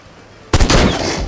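A single loud gunshot from the horror hunting video game Sang-Froid bursts out suddenly after a quiet stretch, its blast ringing on briefly.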